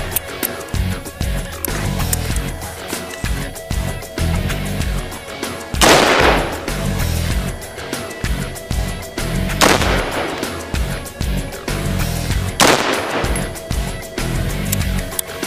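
Colt M4A1 rifle fires on full automatic outdoors at a range, three loud short bursts spaced a few seconds apart, close and sharp, with ambient noise between them and no talk.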